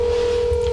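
A steady telephone tone sounds close and loud throughout, as a phone is dialed to place a call outdoors during a Missouri or Iowa whitetail deer hunt.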